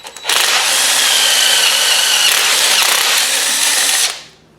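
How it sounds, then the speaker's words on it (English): A power drill bores out a bolt hole for a mirror mount on a 1995 Ford F350 truck, one loud steady whine that runs for about four seconds close by and then stops abruptly. "So I'm going to go ahead and drill that out as well."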